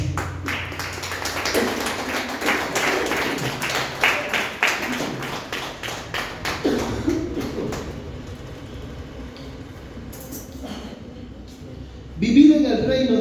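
A church congregation claps along in steady rhythmic bursts during a Spanish-language service, the sharp hand claps repeating for several seconds under a leader's voice before fading toward the end.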